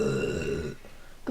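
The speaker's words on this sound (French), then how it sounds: "quand j'aspire trop, en fait, tu vois, je fais un petit rot" A long, drawn-out burp that rumbles for most of a second, voiced and tonal with strong harmonics, mixing belch and cry, then trailing into quiet before a brief vocal sound at the end.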